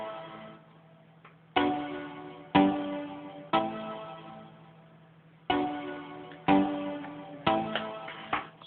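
The original stab synth patch fires a series of bright, punchy stab chords in an irregular rhythm, each one hitting sharply and then decaying, with a steady low tone beneath and no speech.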